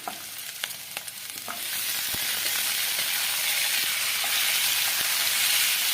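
Capsicum with garlic and tomato sautés over a medium flame, a few spoon clinks and scrapes at first, then a loud, broad frying hiss swells and holds steady close by, with no voices.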